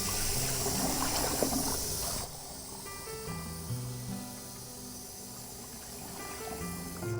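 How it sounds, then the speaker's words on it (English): Water runs from a tap while a cup is rinsed out, a steady close hiss of flowing, splashing water that drops to a softer trickle partway through, with no voices. "Excuse the water sounds."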